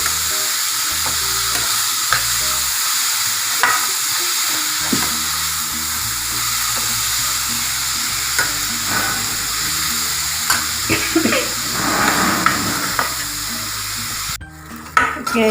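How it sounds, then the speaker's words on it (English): Shredded cabbage stir-fried over a high flame for Kerala-style cabbage thoran, a loud continuous sizzle and hiss with occasional scrapes and knocks of the spatula against the pan, close up and without speech. "we cook the cabbage in high flame"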